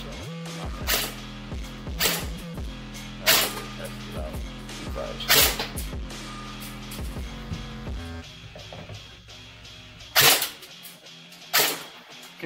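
A KWA TK45 airsoft pistol firing 0.25 g BBs gives sharp, snappy single shots spaced a second or two apart, close and loud, over someone talking.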